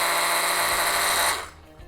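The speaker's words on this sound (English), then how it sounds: "So let's just quickly blend this." A blender whirs loudly and steadily as it purees softened cashews with tomatoes for butter chicken curry, then cuts off abruptly and spins down near the end.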